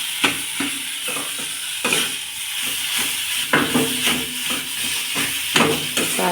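Potato filling seasoned with amchur sizzles while it is stir-fried in a pan, with a steady hiss broken by repeated clinks and scrapes of a spatula stirring and pressing the mixture.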